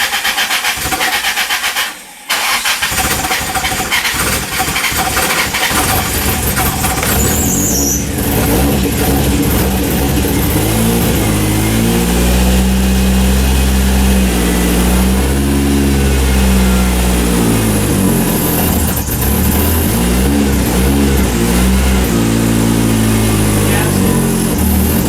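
A car engine cranks and catches after a fuel pressure regulator swap, then idles roughly with a choppy, uneven rhythm and occasional revs, loud and close with hiss and background noise throughout.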